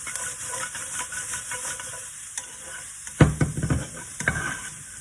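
Egg and vegetables frying in a pan, a steady hiss and sizzle with a burst of loud crackling and spatter as the egg goes in, then settling back to a softer sizzle.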